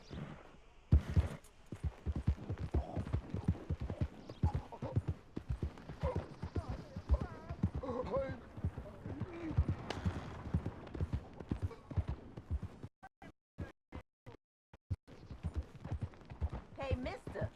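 Horse hooves clip-clop steadily in Red Dead Redemption 2 on Xbox One, a quiet continuous trot under a voice, slowing to a few scattered steps near the end.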